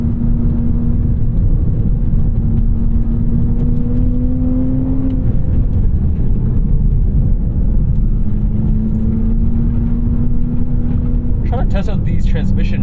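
A stock 2021 Toyota GR Supra on a race track pulls hard under acceleration, its engine drone rising steadily with quick transmission shifts, loud and continuous beneath someone talking over it.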